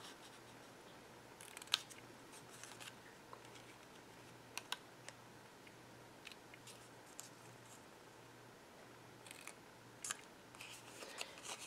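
Scissors snip through quilling paper to cut out small squares, producing faint, sparse clicking cuts spread over several seconds against a quiet, steady background hum.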